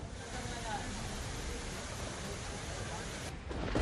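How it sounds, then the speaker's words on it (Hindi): Heavy monsoon rain pours down across Delhi NCR, a steady broadband hiss of downpour filling the scene evenly throughout, fairly faint and constant with a slight swell near the end. "एनसीआर में हो रही है जबरदस्त झमाझम बारिश"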